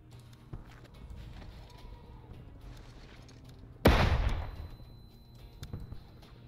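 A flashbang grenade detonates in the tactical shooter Door Kickers 2: one sudden loud blast cuts through low game ambience, then a short noisy decay trails off.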